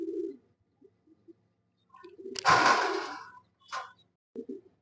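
A pair of Mili racer pigeons coo in short, soft bursts close by, with a louder rustling flurry in the middle and brief pauses between calls.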